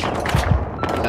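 Dense gunfire in Battlefield 3 on PS3, a rapid burst of loud close shots and booming reports packed into about a second, with no clear talk over it.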